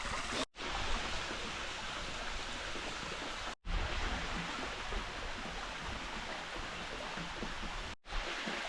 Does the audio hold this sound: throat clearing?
no